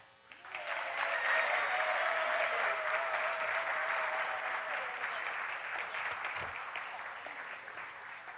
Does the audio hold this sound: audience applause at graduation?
yes